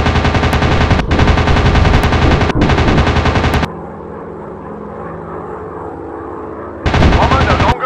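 Rapid machine gun bursts from a WW2 fighter plane in the Warplanes dogfight game, three loud sustained volleys separated by short gaps, then a lull filled with steady engine drone before firing resumes.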